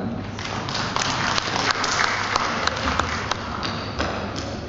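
Applause fills a provincial parliament chamber during a regional budget approval session, a dense, steady wash of many hands clapping with occasional sharper claps standing out, lasting throughout.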